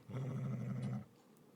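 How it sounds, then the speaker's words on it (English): A wolf's deep growl in a dark fantasy horror audio drama, one sustained, low rumbling snarl lasting about a second, close and menacing, then fading into quiet, with no voices over it. "Fenrir's growl filled the room like thunder."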